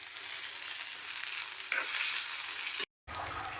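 Pirandai (veld grape) sautéing in a pan makes a steady, close hiss of frying that cuts out abruptly for a moment near the end, then resumes.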